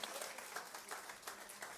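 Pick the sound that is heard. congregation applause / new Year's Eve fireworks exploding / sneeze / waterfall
congregation applause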